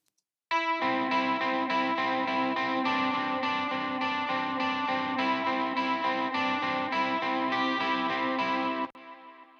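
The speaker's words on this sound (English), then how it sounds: "my personal favorite is the CE1 chorus. And this is based on the old Boss CE1 chorus pedal" An electric guitar played through a Soundtoys EchoBoy CE1 chorus preset modeled on the Boss CE1 pedal rings out in a shimmering, swirling run of strummed chords for about eight seconds, then cuts off sharply.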